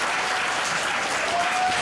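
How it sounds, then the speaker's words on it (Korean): A seated crowd claps in a dense, even burst of applause at a 2024 March 1st Independence Movement Day ceremony in Korea, sustained throughout with no talking over it. "대한독립 선언을 낭독해주신 6명의 국가여러분들께 큰 박수 부탁드립니다."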